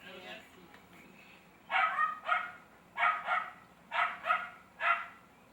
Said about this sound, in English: And lots of dog barking.